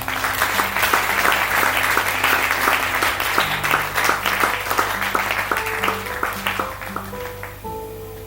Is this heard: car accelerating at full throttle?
no